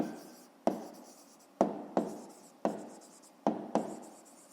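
Close pen strokes scratch across paper while working a fifth-grade math exercise, six quick marks spaced irregularly, each a bright tap trailing into a short rasp, alone and clear.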